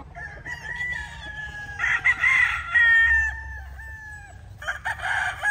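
Grey gamefowl roosters, Sweet and Kelso crosses, crow in long drawn-out calls over steady clucking, with several birds overlapping close by and a second crow starting near the end.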